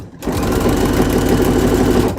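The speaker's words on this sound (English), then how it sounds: "Now I'm just gonna quickly stitch up the side seams" A sewing machine stitches half-inch side seams on a garment, running in one steady, fast, continuous burst at close range for about two seconds, with no talking.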